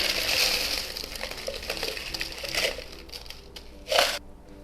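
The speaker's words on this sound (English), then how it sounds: "We're going to fill this glass all the way over the top with ice." Ice being poured into a drinking glass until it heaps over the top, a loose clattering crunch with a sharp louder burst near the end, close and with no voices.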